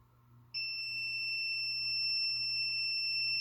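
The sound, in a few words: beep from a comic book pressing machine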